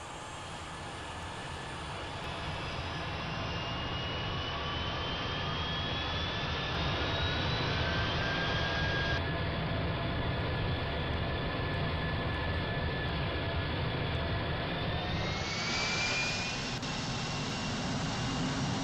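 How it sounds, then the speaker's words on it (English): Simulated Airbus A350-900 jet engines start up in a flight simulator: a steady loud roar carries thin whining tones that climb slowly in pitch, then rise more sharply toward the end. "So if we start our engines,"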